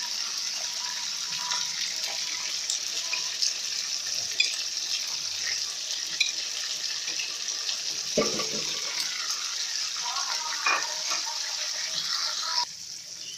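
Chicken pieces frying in a pan with turmeric for Shahi degi korma: a steady, dense sizzle with crackles throughout, close and even, with a brief clatter midway.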